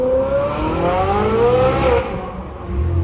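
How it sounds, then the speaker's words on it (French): A Ferrari 458 Spider's V8 revs hard and loud up through a rising howl, then eases off before swelling again, close and alone with no voices. "Le V8 Ferrari les amis, voilà"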